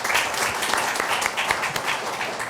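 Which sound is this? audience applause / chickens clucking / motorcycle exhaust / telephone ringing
audience applause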